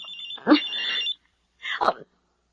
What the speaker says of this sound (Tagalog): Si Alma, tumatawag sa cellphone ko.